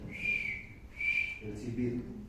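A voice imitates the whistling wheeze of an asthmatic child's breathing, two high sustained whistles followed by a lower breathy tone, alone with no other sound.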